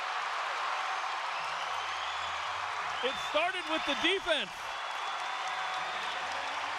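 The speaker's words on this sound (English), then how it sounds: "You see the crowd appreciating these great plays." Crowd at a BYU women's volleyball match applauding and cheering steadily after a long rally, a dense broadband wash of clapping under an excited commentator's voice.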